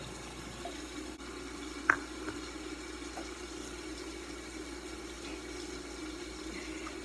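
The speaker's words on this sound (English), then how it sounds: "you want to rinse your onions" Tap water runs steadily while onions are rinsed in a kitchen, a constant close wash with one brief sharp knock near the start.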